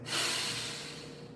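A long, deep breath is drawn in through the nose, close and airy, rising quickly then tapering off over about a second.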